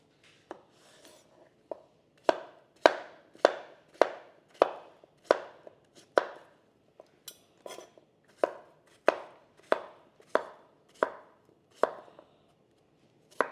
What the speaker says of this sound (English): cut these into 1-inch pieces